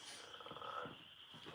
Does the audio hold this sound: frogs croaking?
yes